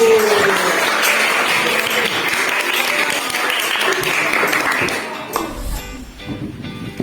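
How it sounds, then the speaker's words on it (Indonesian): Clapping from a class of students after a lesson on making triangular prisms, a dense steady applause of many hands filling about five seconds before dying away. "Tepuk tangan dulu."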